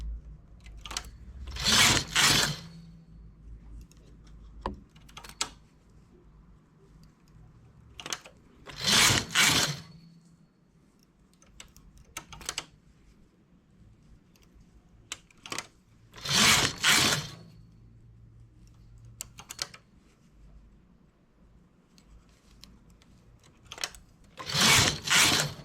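A knitting machine working rows for a stuffed flower, its carriage sweeping across in loud rasping passes every few seconds, separated by quieter clicks and small handling taps, close and without talk.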